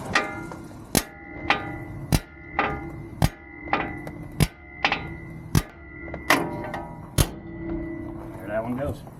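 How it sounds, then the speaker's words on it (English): A sledgehammer strikes the tie rod end on a 2017 Ford Super Duty F-250/F-350 again and again, sharp ringing metallic blows roughly once a second, loud and close, with a voice talking now and then. "take a sledgehammer or a large hammer, hit it here, get it to break loose"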